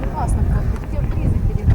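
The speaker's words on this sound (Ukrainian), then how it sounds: "О, летить вертолітка." Helicopter flying overhead above the wide Dniester river at Bakota, a steady low rotor drone mixed with wind buffeting the microphone outdoors.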